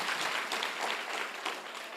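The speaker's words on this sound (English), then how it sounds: "can you give him a round of applause?" A civic-centre audience at a public hearing on a climate change bill gives a round of applause, a dense, even patter of many hands clapping throughout.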